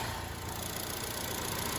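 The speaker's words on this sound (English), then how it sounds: "The engine is just purring." A car engine idles smoothly after a squeaking fault on a Copart salvage car has been fixed, a steady close-up hum and whir holding even throughout with no voices.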